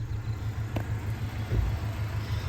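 A 1994 Ford Ranger engine idling low at around 600 RPM, a steady close rumble with a faintly uneven pulse and no voices.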